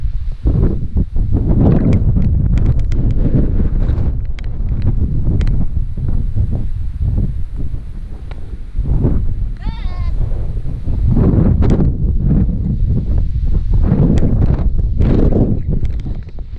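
Strong, cold wind at Seneca Rocks buffets the microphone in a constant loud roar, with gusts rising and falling throughout.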